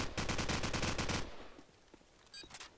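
AK rifle fire in a Counter-Strike match: a loud, fast automatic burst of close shots lasting about a second, followed by quieter scattered game noises.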